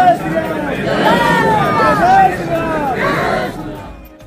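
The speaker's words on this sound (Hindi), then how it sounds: "भीड़ देख कर एक बार तो डर लग जा रहा है" A dense crowd of devotees at Hanuman Garhi temple makes a loud, continuous babble of many voices, with shouts rising above the general hubbub.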